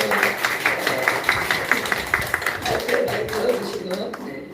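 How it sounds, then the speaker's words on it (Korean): A church congregation claps in a steady round of applause, rhythmic hand claps over a murmur of voices talking in the room. "박수"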